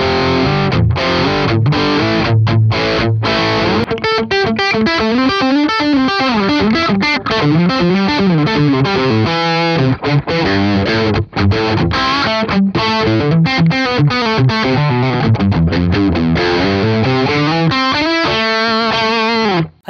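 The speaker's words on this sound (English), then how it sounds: "I'd say this is a medium gain tone, but it's perfectly usable in almost any context." Medium-gain electric guitar through a ToneX capture and a Marshall 1960 4x12 cabinet with Vintage 30 speakers, miked with an SM57 and MD421, plays a busy, loud distorted riff with chords and single notes, continuous for twenty seconds.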